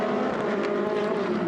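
Ferrari Challenge race cars at a rolling start in the 2016 Coppa Shell round at Sochi, engines droning loud and continuous as they rev together, a dense steady roar with no pauses.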